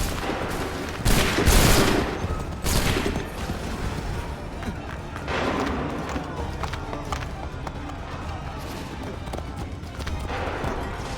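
In Assassin's Creed 3, a musket volley erupts as a burst of overlapping gunshots, then scattered later shots crackle over ongoing battle noise.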